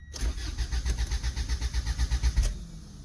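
An old manual car that has sat unused for a while cranks hard, a rapid rhythmic churning of the starter and engine for over two seconds that nearly catches before cutting off.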